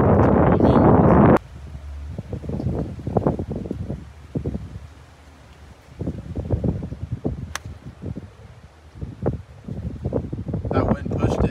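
Wind blowing on a golf course: a loud gusty roar buffets the microphone at first, then drops to a steadier rush beneath several people talking.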